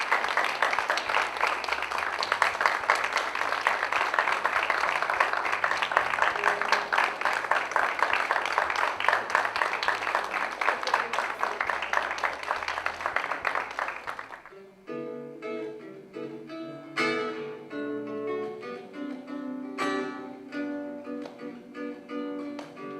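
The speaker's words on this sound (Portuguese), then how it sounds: "a gente pode dar uma salva de palmas para" An audience breaks into loud, sustained applause at a national science and technology week event, a dense wash of clapping that ends abruptly and gives way to a music track.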